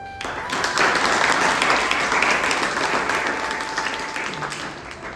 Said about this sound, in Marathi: टाळ्या वाजून टाळ्यांच्या गजरामध्ये स्वागत करायचं